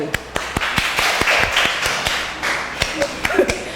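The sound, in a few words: applause during a dance school class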